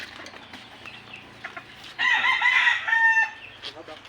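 A young rooster (stag) crows once, close and loud, in a backyard. A full, hoarse crow rings out for just over a second amid faint rustling and a few soft background clucks.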